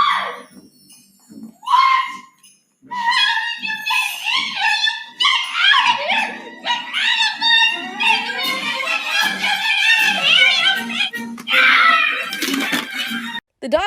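Dogs whimper, yip and whine excitedly in high, wavering cries over a busy stretch of sound, with short barks mixed in and close, loud, continuous vocalising for most of the scene.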